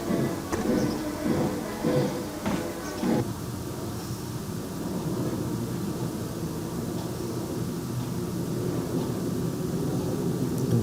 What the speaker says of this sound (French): c'est un avion qui passe au-dessus